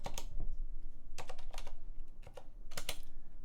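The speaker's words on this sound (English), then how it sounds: "If you want to see it, you have to type update grub." Keys clatter on a computer keyboard as a Linux terminal command is entered, several quick clustered bursts of clicks, close and clear with no talking.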